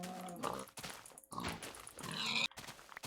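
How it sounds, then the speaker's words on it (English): Minecraft pig oinking in the video game, short grunting oinks scattered over about three seconds among other game noises, fairly close and moderately loud. "There is a pig and we're gonna go kill it."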